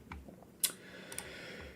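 Computer keyboard typing in an office setting: a few quick, fairly close keystroke clicks over a faint steady background, with no talking.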